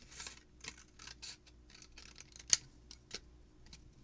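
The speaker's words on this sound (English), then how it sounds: "cut the tiny flaps on the bottom up and in a triangle" Scissors snipping small flaps in paper card, a series of quiet, close, crisp cuts in an irregular rhythm, one sharper snip near the middle.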